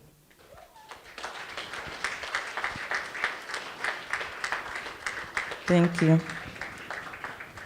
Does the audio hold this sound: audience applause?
yes